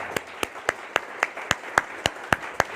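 An audience at a spiritual discourse claps in unison, with about ten sharp, evenly spaced claps in a quick, steady rhythm and no speech over them.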